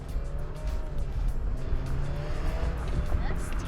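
An Alfa Romeo Giulia accelerating in dynamic mode with paddle shifters, a close engine roar with rising pulls and some tire noise over a short burst.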